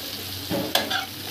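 Chopped eggplant tipped into a pan of onion and garlic already frying together, giving a brief close stirring clatter and a soft burst of sizzle that fades back to a low hiss.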